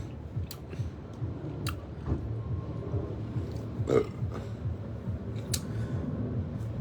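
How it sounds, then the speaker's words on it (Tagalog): A loud burp from someone after a meal with soft drinks, heard near and alone amid faint clicks and small mouth noises, with no talk over it. "Nakita mo yung dighay ko ay narinig nyo."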